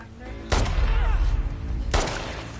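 A pipe bomb goes off in The Last of Us Part II, two loud broadband blasts about a second and a half apart, each with a deep booming low end and a rumbling tail.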